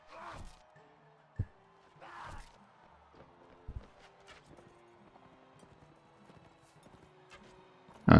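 Horses in Mount and Blade Warband tournament combat, scattered hoof clops and thuds at varying distances amid faint game ambience, with a louder impact at the very end.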